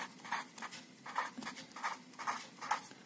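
Pen or chalk writing numbers in figures during a class 6 maths lesson, a series of short rhythmic scratching strokes about every half second, close and clear, no talking.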